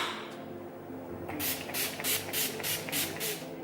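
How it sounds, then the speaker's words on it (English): Makeup setting spray mists from a pump bottle close by in about seven quick, evenly spaced hissing bursts after a brief pause, with no talking. "I will finish off with the setting spray just really quickly."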